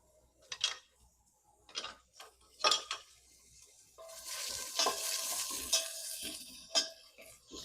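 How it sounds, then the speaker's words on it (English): Red, yellow and orange bell peppers are sautéed in a pot for chili: quiet, intermittent spatula scrapes and stirs at first, then a soft, continuous sizzle punctuated by occasional clicks. "So I'm using red, yellow, and orange. You only really need to use 2 peppers if you want to. And we're gonna get those sauteed."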